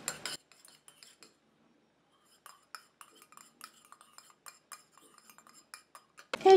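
A utensil clinks and scrapes against a container while mixing a solid monoi hair conditioner preparation, with faint irregular taps and a pause partway through, then a louder knock at the end.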